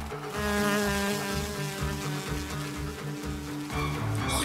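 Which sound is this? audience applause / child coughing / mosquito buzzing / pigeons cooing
mosquito buzzing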